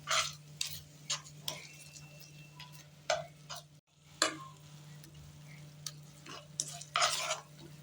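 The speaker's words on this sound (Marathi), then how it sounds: "ह्याला छान मिक्स करून घेऊया." Chocolate cake mixture stirred in a pan over a low gas flame, a spoon scraping and clicking against the metal in irregular strokes, close and fairly quiet over a steady low hum.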